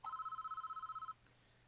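A telephone in the prison-management game Prison Architect gives one trilling electronic ring that lasts about a second, clear and alone, then stops.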